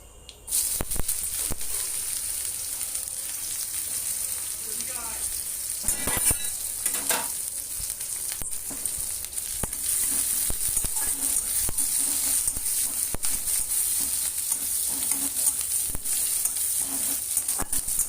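Sliced onion fries gently in oil in a pan, a steady close sizzle that holds for the whole stretch, broken now and then by faint scrapes of stirring, with nobody speaking.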